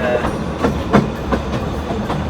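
A narrow gauge railway train rolls past at close range in Wales, with a loud, continuous rumble broken by rhythmic clicking of small wheels over rail joints.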